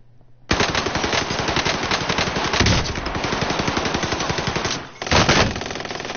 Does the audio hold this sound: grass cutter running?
no